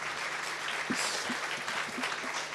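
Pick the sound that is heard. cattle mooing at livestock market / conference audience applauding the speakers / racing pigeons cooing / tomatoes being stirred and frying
conference audience applauding the speakers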